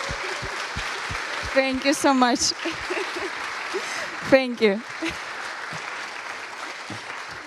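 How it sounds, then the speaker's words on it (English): Audience applause for a conference organizer at a software quality conference, a steady broadband clatter running throughout, with someone speaking over it near the middle. "please give her a long round of applause"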